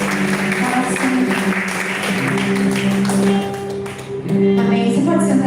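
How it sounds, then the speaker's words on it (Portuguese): Church congregation applauding during a worship service, a steady patter of many hands clapping together under sustained music, with a voice speaking over the clapping. "Você pode aplaudir a Ele"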